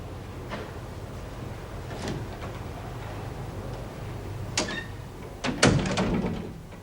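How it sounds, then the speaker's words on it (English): A door is shut in a women's prison cell block drama: soft room noise, a sharp knock, then a louder closing bang with rattling near the end. "Close the door."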